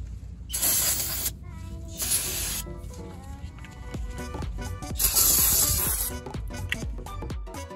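Aerosol brake cleaner hisses onto the front brake rotor of a 2012-2014 Toyota Prius C in several sharp, loud bursts at close range, with handling noises between them.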